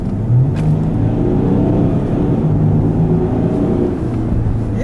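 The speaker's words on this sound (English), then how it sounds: "I'm gonna give this guy a little bit of space so I can see a bit if this car accelerates." A Range Rover accelerating on the road, heard from inside as a loud, steady low engine drone and road rumble with a faint rising pitch, with no voices.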